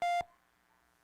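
Telephone busy tone heard after a caller hangs up, a single loud electronic beep lasting about a fifth of a second that then drops to faint background hum.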